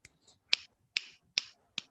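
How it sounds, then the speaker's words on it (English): Audience finger snaps at a youth closing ceremony, four crisp, evenly spaced snaps standing out sharply against near silence, with a softer snap or two before them. "And finger snaps."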